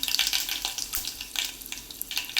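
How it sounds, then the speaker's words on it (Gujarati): Rapid, dense crackling and popping of mustard seeds in hot oil, sharp bursts scattered throughout, close and fairly quiet, with no voices. "રાઈ તતડી ગઈ છે."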